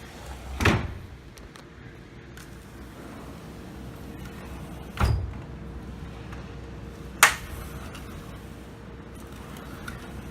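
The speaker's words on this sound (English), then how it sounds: "now these doors work as they should" A repaired sliding patio door gliding on a stainless steel track cap: three separate sharp rolling thuds as the panel slides and meets its stop, spaced several seconds apart, close by in a quiet room.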